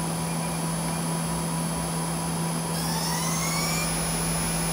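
A 2008 Okuma LB3000-EXMYC horizontal CNC lathe spindle runs steadily at speed, a constant high whine and hum with rising tonal sweeps as it spins up near the end, no voices.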